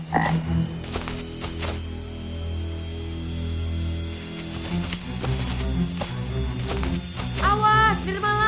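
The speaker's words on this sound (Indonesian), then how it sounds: "Itu katak hewan predator capung." A frog croaks in an Indonesian animated forest adventure cartoon: a steady, throaty croaking runs loud through the whole stretch, with brief bursts of other cartoon sound near the end.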